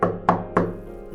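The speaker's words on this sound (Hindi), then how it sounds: "तो काफी वायलेंटली, बहुत जोर जोर से इन्होंने दरवाजा खटखटाया।" Three hard, evenly spaced knocks land heavily on a locked door, each a sharp, loud thud with a short ring, close by and alone.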